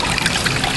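Water rushes steadily through a gold sluice during a concentrate clean-up, making a loud, continuous splashing and gushing that never lets up over the short stretch.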